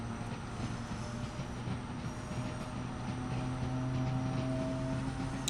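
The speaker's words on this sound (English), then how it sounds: "I just love the way this fucking train sounds." A Pendolino express train in Train Sim World 6 on the West Coast Main Line from London Euston to Carlisle runs steadily, a continuous low drone with humming motor tones and faint wheel noise throughout, no talk.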